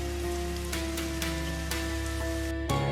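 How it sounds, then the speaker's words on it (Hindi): Steady rain falls in a village setting, a constant dense patter heard alongside sustained tonal hums and a few soft thuds, with no voices. "बाजार से लौट रही थी, अचानक बारिश शुरू हो गई।"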